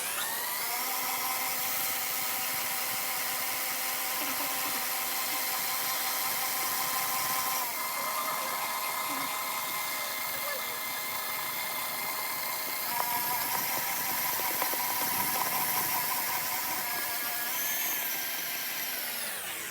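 A stand mixer kneads chocolate swirl bread dough at about three-quarter speed, its motor whirring loudly and steadily without pause, with a faint rhythmic knock of the dough against the bowl.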